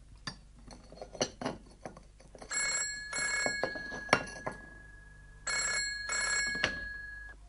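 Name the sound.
telephone ringing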